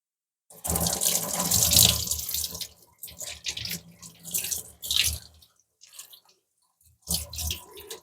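Water runs from a tap in bursts while rinsing an RO water purifier part, a steady splashing stream at first, then shorter gushes starting and stopping, with a brief silent gap near the end.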